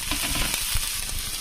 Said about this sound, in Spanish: aquí estas verduritas, para darle un toque extra, lo pongo en la sartén